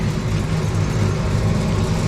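A grain extruder motor running without load while extruding soybeans gives a steady, low mechanical hum, continuous and unchanging, close and fairly loud, with no voices.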